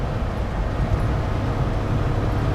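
Suzuki Carry 660 kei truck engine drones steadily at high revs under way while shifting into fourth gear, a continuous loud low rumble mixed with road noise, no distinct gear-change break audible, without talking.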